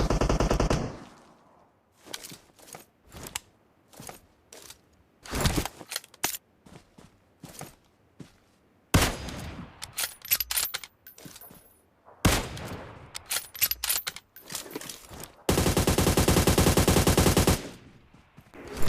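Bursts of automatic rifle gunfire from the PUBG Mobile video game crack out in short, loud volleys separated by quiet gaps, ending in a long sustained burst of rapid shots.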